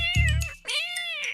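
Cartoon cats in an animated Hindi children's story about a monkey and two cats, squabbling in loud, close meows: a short sharp yowl followed by a longer drawn-out meow.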